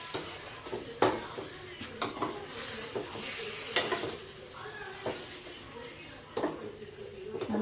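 Pasta with melting cheese stirred in a hot pan, with irregular scrapes and clinks of a utensil against the pan over a low sizzle, close by.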